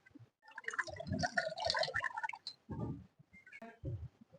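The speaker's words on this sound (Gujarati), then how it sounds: "હવે એમાં ઘૂંટડો પાણી નાખ." A small splash of water poured into a cooking pan to start tea, heard as a couple of brief close pours and drips with soft handling noises in between.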